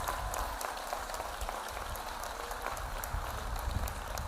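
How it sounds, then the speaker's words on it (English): A crowd applauds steadily, a dense wash of clapping hands sustained throughout at moderate distance, with a few scattered voices. "round of applause for our facilities team"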